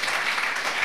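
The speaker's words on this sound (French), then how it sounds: "Acclamons Jésus-Christ." A church congregation claps in applause at a sermon, a dense steady wash of hand claps filling the short moment with no voice over it.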